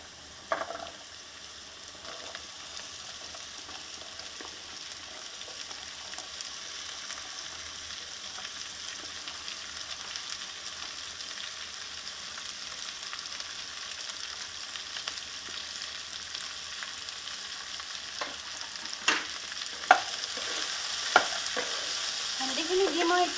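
Okra sizzles and fries in a pan with browned onions, with a continuous moderate hiss and scattered scraping stirs that grow a little louder toward the end, heard alone without talk.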